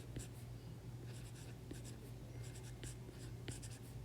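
A marker or pen writes on a graph in short, scratchy bursts of strokes, faint and close, over a low steady hum, with no talk.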